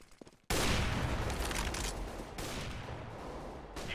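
Decoy grenade in Counter-Strike firing off fake gunfire, a loud sustained burst of rapid shots that starts abruptly after a brief quiet lead-in and continues densely to the end, close and unbroken.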